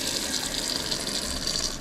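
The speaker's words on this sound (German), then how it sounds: "Ja, hier geht noch Wasser." Water runs steadily from a tap in an abandoned building, a continuous hissing gush at moderate level with no voices.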